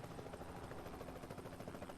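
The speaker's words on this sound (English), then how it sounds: "Oh wait, that's a helicopter." A helicopter in the truck-driving game American Truck Simulator keeps up a steady, rhythmic rotor chop at moderate loudness throughout, with no speech.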